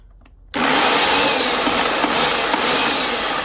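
A loud, steady electric chainsaw motor, plugged into a 240-volt socket, whines into life after a brief quiet moment and keeps running continuously at close range.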